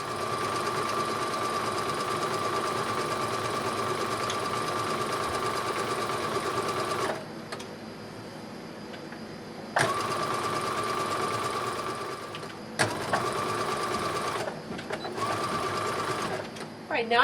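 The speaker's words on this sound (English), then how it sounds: "I'm going to zigzag stitch all the way along this hem that I've created on this lining." Sewing machine zigzag stitching along the hem of a dress apron lining, a loud, close, continuous mechanical whir that stops and restarts several times near the end, with a voice talking over it.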